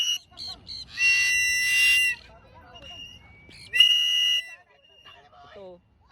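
Sharp, shrill referee-style whistle blasts, a few short toots followed by two longer piercing blows, loud and close, with excited voices calling out between them.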